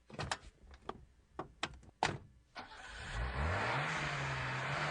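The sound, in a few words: car door and engine revving in a radio ad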